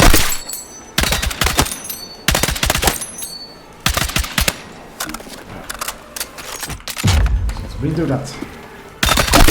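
Rifle fire at a shooting range in Battlefield 6, loud short bursts of rapid shots separated by pauses, with a person talking briefly between them.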